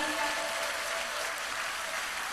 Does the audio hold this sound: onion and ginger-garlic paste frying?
no